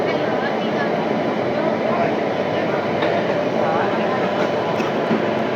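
A passenger train pulls out of a station, a steady, loud rolling rumble with faint clatter throughout, heard close as if from on board or the platform, with possible faint voices underneath.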